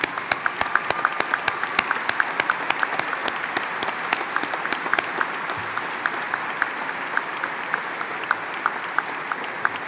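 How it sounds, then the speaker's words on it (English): A university commencement crowd gives standing graduates a sustained round of applause, with full, continuous clapping and crisp individual claps from people close by, lasting about ten seconds. "Let's give them a round of applause."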